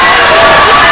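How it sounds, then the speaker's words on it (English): Crowd noise fills a girls varsity basketball game between Sioux Falls Roosevelt and Sioux Falls O'Gorman, a loud, continuous roar of cheering and shouting through the whole moment with no single voice standing out. "If you're here, you should hear the crowd."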